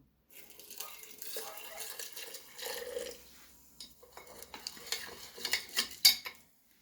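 A metal spoon clinks and scrapes against a one-litre glass jar while stirring superphosphate solution, in uneven bursts, with a sharper tap near the end; close and fairly quiet.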